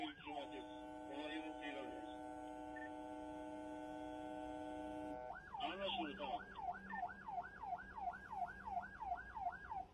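A fire engine siren sounds in highway traffic in Turkey, first a steady held horn-like tone, then a loud, rapid rising-and-falling wail cycling repeatedly up close, with a voice over a loudspeaker talking beneath it.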